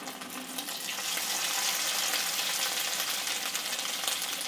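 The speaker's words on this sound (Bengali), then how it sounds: "চিকেনটা এবার এক এক করে ভেজে নেব। একটু লালচে করে ভেজে নেব প্রত্যেকটা চিকেনের পিস।" Chicken pieces fry in hot oil, giving a continuous, bright sizzle that swells slightly after the first second and holds steady, close and unbroken with no talking.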